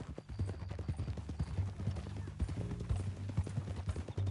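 Horse hooves clip-clop at a steady walking pace in Red Dead Redemption 2, close and clear over a low rumbling bed, with a horse snort or whinny briefly mixed in.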